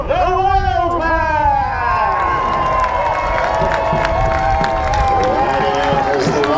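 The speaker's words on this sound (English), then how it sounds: "make sure you give them a huge cheer" Crowd at a castle jousting show cheering and shouting loudly, children's voices rising above, with applause mixed in and a sustained swell that carries on for several seconds.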